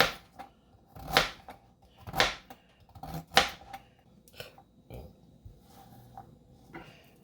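Knife slicing zucchini into half moons on a cutting board, three crisp chopping strokes about a second apart followed by softer taps and scrapes, close and quiet with no speech.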